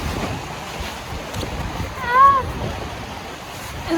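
Strong wind sweeps across a beach, making a low, soft rumble and buffeting with a faint wash of surf in the background, steady with one slightly louder gust midway.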